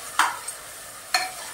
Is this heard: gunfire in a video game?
no